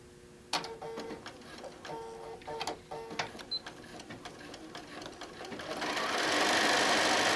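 Sewing machine quilting a placemat cut from a printed panel, a rapid rattling stitch with irregular ticks and knocks, close and alone, with a rising hiss toward the end.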